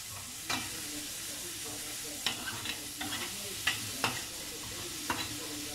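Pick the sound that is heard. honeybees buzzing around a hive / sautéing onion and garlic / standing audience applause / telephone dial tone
sautéing onion and garlic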